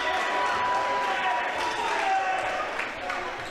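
The home crowd at a men's college basketball game between the Lynchburg Hornets and Roanoke Maroons, a steady roar of cheering with a few shoe squeaks and an announcer talking over it.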